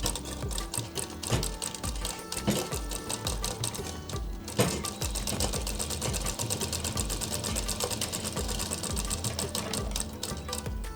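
A sewing machine stitches the neckline strip of a Patiala kurti, running in a fast, continuous mechanical chatter of needle strokes with a brief pause near the middle, close and alone.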